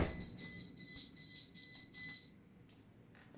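A GE Choice Alert alarm system beeps through its 10-second entry delay, giving a steady train of high, evenly spaced electronic chirps that runs for about two seconds before stopping, leaving a quiet room.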